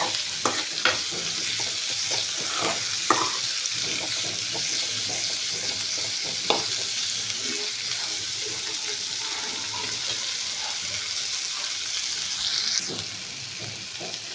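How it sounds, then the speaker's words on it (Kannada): Onions frying in oil for a village-style brinjal dish, a dense steady sizzle with irregular stirring clinks and scrapes, close and continuous throughout. "ಎಣ್ಣೆ ಒಳಗೆ ಫ್ರೈ ಮಾಡ್ಕೋಬೇಕು ಉಳ್ಳಾಗಡ್ಡಿನ."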